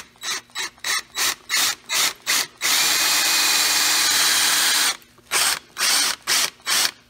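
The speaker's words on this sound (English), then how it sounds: "If you're not, drill off to the center there." Power drill boring into the top of a broken bolt, a series of short bursts, then one long sustained whine, then more short pulses, loud and close with no talking.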